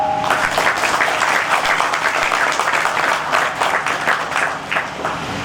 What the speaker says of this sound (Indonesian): Salut dan tepuk tangan untuk panitia At-Taubah.